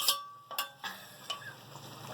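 Browned onions tipped into a pot of chicken korma and stirred, giving a few soft scrapes and clatters over a quiet sizzle; faint and close, with no talking.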